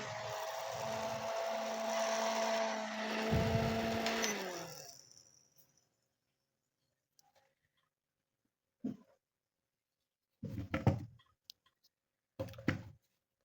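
An upgraded USB fan with a brushless motor running at high speed gives a steady whirring drone with a tonal hum that winds down after a few seconds, followed by near silence and a few short knocks.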